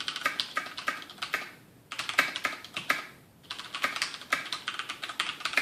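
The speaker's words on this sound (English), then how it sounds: "So that's what it sounds like with Cherry MX Black." Fast typing on a mechanical keyboard with Cherry MX Black switches, dense clacking key presses in three bursts separated by brief pauses, close and clear with no talking.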